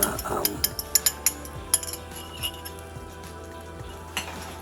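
Beaten egg goes into a pan of frying bitter melon (ampalaya): a soft, steady sizzle with scattered metallic clinks of a utensil against the pan, busier near the start.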